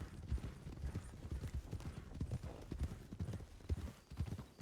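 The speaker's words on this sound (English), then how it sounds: "Go to a canter." Horses canter with a quiet, uneven run of hoof clip-clops, somewhat distant, while a voice speaks faintly at one point.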